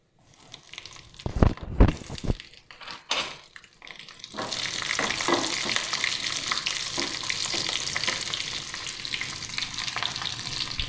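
Cumin seeds and green chilies hit hot oil for millet pongal with a steady, close sizzle, after a few sharp clinks and stirring knocks at the start.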